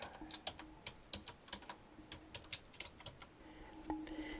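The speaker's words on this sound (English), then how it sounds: "let's go ahead and type in here, Happy Uncle Dave" Someone types on a computer keyboard, a quiet series of irregular close key clicks and taps in a steady flurry, alone without talk.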